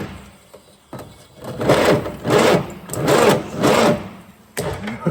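A stiff engine turning over on its starter motor in slow, labored bursts, four strained cranks in a row with pauses between, close and loud, then one more short crank.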